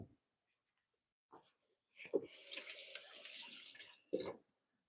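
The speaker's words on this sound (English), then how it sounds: "Give my hands a quick rinse." Hands rinsed under a running kitchen tap: a couple of soft knocks, then roughly two seconds of quiet splashing water that stops, followed by another short thud.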